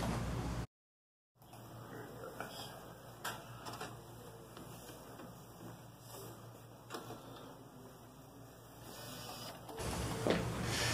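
A direct-to-garment (DTG) printer lays down a white ink underbase on a dark polyester T-shirt, producing a quiet, steady mechanical whir with faint clicks and tonal hums after a brief dropout at the start.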